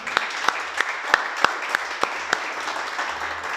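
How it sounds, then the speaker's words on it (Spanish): Sparse clapping in a church gathering, about eight distinct, evenly spaced claps, fairly close and crisp, over a quiet room with faint low rumble. "Un aplauso al Creador."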